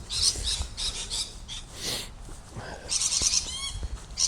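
Birds chirp and call repeatedly over outdoor rustling and low rumble, with several bursts of high twittering.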